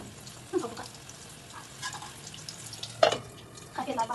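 Potato mixture frying in a pan with three spoons of oil, a faint low sizzle with a few soft scraping and stirring clatters scattered through.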